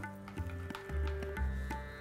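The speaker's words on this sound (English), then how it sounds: "just love this sizzling sound" Low, steady sizzling of hot oil poured over beetroot pachadi, with bursts of louder crackle, close by, alongside clinking and a faint hum; no talking.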